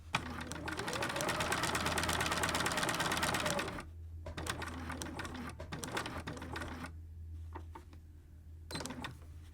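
A sewing machine stitches darts on a color-blocked top, a rapid steady whir that runs loud for several seconds, then continues in shorter bursts with pauses in between.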